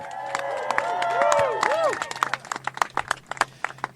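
Crowd at a campaign rally cheering and clapping, with whoops and shouts early on that thin into scattered claps over the last seconds.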